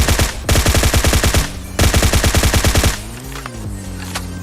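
Rapid automatic gunfire in a battle royale video game, two long loud bursts of evenly spaced shots separated by a short gap, then a lower droning tail with scattered faint effects.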